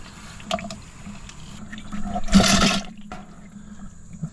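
Water splashes out of a container used for cleaning brass cartridge cases, a short gushing pour peaking midway, preceded by faint drips and small clinks, with no voices.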